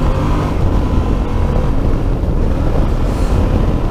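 Yamaha Tenere 700 motorcycle riding over gravel, a continuous loud rumbling roar of engine and wind with crunching road noise, steady throughout and close.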